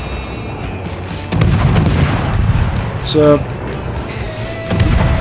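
Gearing destroyer guns in World of Warships fire in heavy booming volleys, several thudding blasts spaced a second or two apart over a low rumbling battle background, with someone talking briefly over them.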